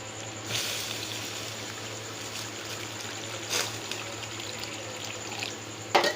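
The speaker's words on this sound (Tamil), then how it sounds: "இப்போ இதில் தண்ணி தேவையானது ஊற்றிக்கலாம்." Water pours steadily into a pot of shark fish curry, a soft continuous splashing trickle heard close and quiet, with a few brief clinks.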